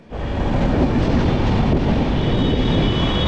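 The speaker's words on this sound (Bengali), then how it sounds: "আমাদের ট্রেন বেরোলো এই কলকাতা স্টেশন ছেড়ে" The Kolkata–Jammu Tawi Express rumbles out of Kolkata station, a loud, steady roar of wheels and carriages that begins abruptly and holds without pause.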